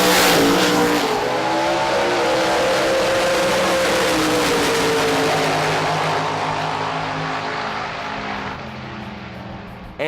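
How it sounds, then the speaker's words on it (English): A Ford Mustang and a rival car race in a Top Sportsman drag racing final at a dragway, a loud, close engine roar that holds strong and shifts in pitch before fading slightly at the end. "In Top Sportsman, championship leader Andrew in the Ford Mustang went up against Steve Fowler in the finals."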